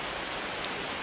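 Steady rain falls in a rainforest, an even, dense hiss of drops on leaves and surfaces filling the whole moment without pause, with no voices.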